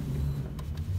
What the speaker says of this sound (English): You heard my car go back on?